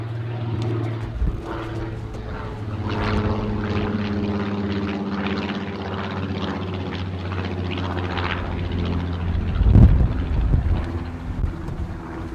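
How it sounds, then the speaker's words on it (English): Old piston-engine propeller aircraft of the Battle of Britain Memorial Flight droning overhead above a canal, a loud sustained throbbing hum with steady harmonics that swells and fades, buffeted by wind on the microphone. "That sound old, like a Spitfire or something."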